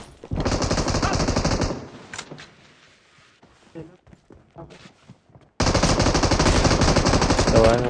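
Sustained automatic gunfire in a shooting video game, loud and dense: one long burst, a quieter gap holding a few scattered shots, then a second heavy burst running to the end.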